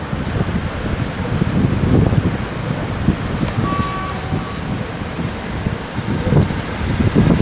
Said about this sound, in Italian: Non so se si sente il vento.